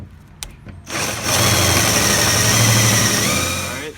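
A drill running a 3/4-inch metal hole saw with its center bit removed spins up after a few faint knocks, then holds a loud, steady whine and buzz while cutting through metal, easing off slightly at the end.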